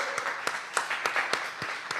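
Scattered claps from an audience at a leadership tour event, with distinct sharp hits spaced irregularly over a low background murmur rather than a dense roar.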